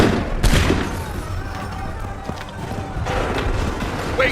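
Musket volleys ring out in Assassin's Creed III Remastered, with booming blasts and scattered gunfire over a dense battlefield din of hooves and running, while voices shout orders.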